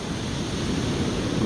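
Ocean waves wash onto a beach along the coast in a steady, full roar of surf mixed with wind noise on the microphone, with no one speaking.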